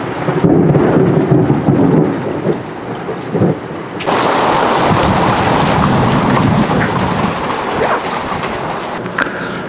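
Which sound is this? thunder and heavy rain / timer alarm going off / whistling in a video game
thunder and heavy rain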